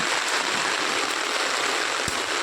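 Heavy rain falls in Chandigarh in a continuous hiss, dense and even, with one brief low thud partway through and no talking.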